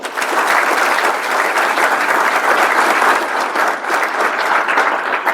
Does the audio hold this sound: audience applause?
yes